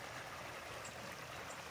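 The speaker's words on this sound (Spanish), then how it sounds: "Sonido de las aguas del río Cañonerejo" Steady, even rushing of the Cañonerejo river's water, a constant broadband flow with no voices.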